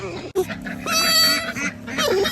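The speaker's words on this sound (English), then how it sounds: "You tired of all the noisy ducks and animals?" Ducks on a farm quack and honk noisily in a close, loud burst of overlapping calls, with a short sharp knock just before them.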